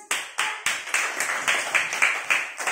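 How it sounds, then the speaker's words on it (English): First and second class schoolchildren in a classroom clap together in a loose rhythm of about ten claps, close and fairly loud. "stop clapping"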